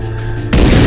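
A shotgun blast fired in the zombie survival game Dead Age: a sudden loud, heavy boom that cuts in halfway through and sustains as a dense, roaring burst.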